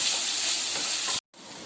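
Vegetables sauté with salt in a kadai, producing a loud, steady, close frying sizzle that cuts off abruptly for a moment and then resumes slightly quieter.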